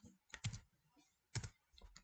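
Computer keyboard keys pressed while working through a messaging program, two distinct clacking presses with lighter clicks between and after, close and fairly quiet, no talking.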